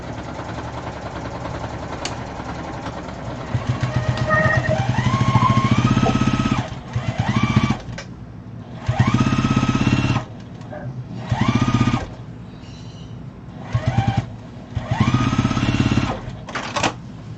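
A sewing machine stitches binding onto a fabric mat in several loud, close bursts of fast whirring, with pauses between runs.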